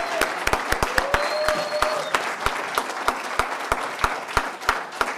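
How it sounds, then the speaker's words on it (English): An audience at closing remarks applauds Michuki. Moderate clapping runs under a line of sharp, regular knocks or taps, with faint indistinct voices in the room. "So I'd like you to applaud Michuki"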